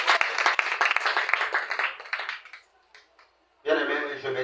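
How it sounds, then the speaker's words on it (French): A church congregation bursts into loud applause of many hands, which fades away over about two seconds before a single voice begins speaking. "On acclame pour la gloire de Dieu."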